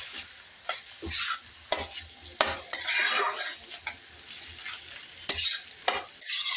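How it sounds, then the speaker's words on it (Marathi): Veggie filling with tomato ketchup stirred in a pan, with repeated sharp scrapes and clacks of a spoon against the metal over a soft sizzle, close and irregular, with no talking. "आता याला छान असं मिक्स करून घेऊया"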